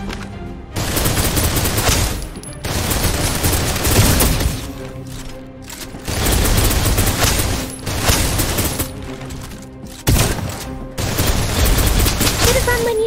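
Gunfire rattles in Snowbreak: Containment Zone as dense, rapid bursts of automatic fire, loud and close. Brief pauses break up the shooting.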